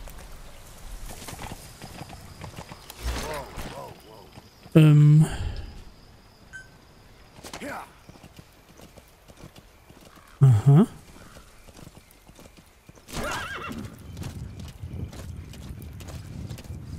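Hooves clip-clop briefly with a couple of loud bursts, amid quiet game ambience and a faint insect-like drone in Metal Gear Solid V: The Phantom Pain; someone speaks German now and then.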